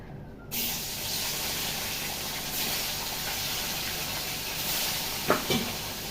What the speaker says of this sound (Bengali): আমার তেলটা গরম হয়ে গেছে মাছগুলো আবার ছেড়ে দিই